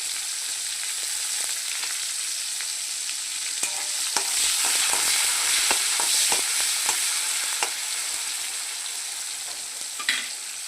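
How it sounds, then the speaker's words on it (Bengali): Chopped onion sizzles and crackles steadily in a hot pan, with occasional scraping stir clicks, in preparation for a Bengali fish curry with no one talking. "পেঁয়াজ কুচি দিয়ে দিলাম। পেঁয়াজটা একটু ভাজা হবে"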